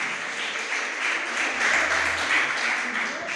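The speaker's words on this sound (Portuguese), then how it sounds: "Dá para você dar uma salva de palmas por isso" A Baptist church congregation gives a round of applause, steady and dense clapping that fills the room and carries on evenly for a few seconds, with a faint voice underneath.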